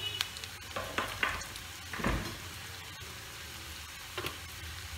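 Onion frying in a small amount of oil in a nonstick pan for Bengali fried rice gives a steady soft sizzle, with a few brief louder crackles and stirring scrapes.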